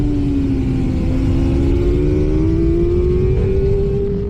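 A racing motorcycle pulls hard at Brands Hatch, heard from a helmet camera as a loud engine whine that climbs steadily in pitch under heavy wind rush, with no talk.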